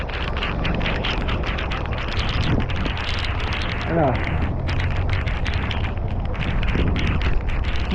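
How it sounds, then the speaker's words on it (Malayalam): Rain falls steadily over the Madayipara hilltop, a dense, continuous hiss mixed with wind buffeting the microphone, with faint voices and other sounds briefly audible partway through. "മഴ നിന്നിട്ടില്ല മക്കളെ"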